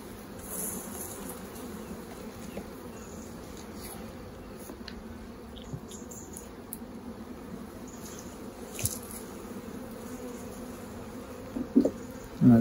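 Honey bees drone in a steady, low buzz from an open beehive during a September hive inspection. The buzzing is close and continuous, with a few faint clicks and knocks near the end.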